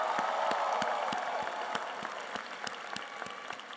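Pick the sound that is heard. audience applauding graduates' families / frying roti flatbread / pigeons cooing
audience applauding graduates' families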